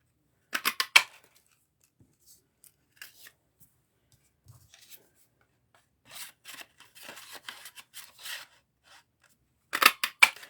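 Scissors cut through white cardstock for punch art cards. There are several short bursts of crisp, quiet snipping separated by pauses, with a final cluster of cuts at the end.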